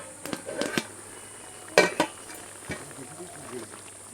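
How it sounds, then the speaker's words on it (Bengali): A lid comes off a pot of chicken boiling for Dada Boudi biryani with a few light metallic clinks and a sharper clatter, over a faint low bubbling simmer. "এখন একবার ঢাকনাটা খুলে দেখে নেব"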